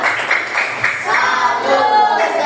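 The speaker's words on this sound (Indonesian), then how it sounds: "Untuk kelompok 3 beri tepuk salut." A class of students gives a salute clap for a group of classmates, a dense burst of clapping close by with light chatter underneath.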